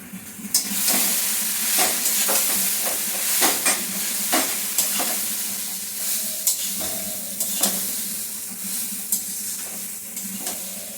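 Flattened rice with turmeric frying in a pan, a continuous close hiss and sizzle with frequent sharp scraping strokes of a spatula stirring throughout, no voices.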